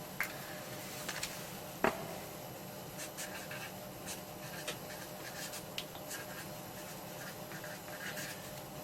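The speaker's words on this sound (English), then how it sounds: "Let me just write on the disk what's on the actual disk" A pen writes a label on an Atari ST floppy disk with soft, faint scratching strokes, broken by small taps and one sharp click, heard close in a quiet room.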